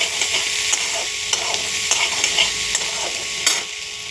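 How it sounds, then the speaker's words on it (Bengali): Potatoes fry in hot oil with salt and turmeric for an egg curry, a constant sizzling hiss punctuated by sharp, close scrapes and taps of a spatula stirring the pan. "এই তেলের মধ্যে আমি আলুগুলো দিয়ে দিচ্ছি। সুন্দর করে একটু লবণ হলুদ দিয়ে ভেজে নেব।"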